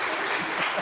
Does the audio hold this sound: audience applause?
yes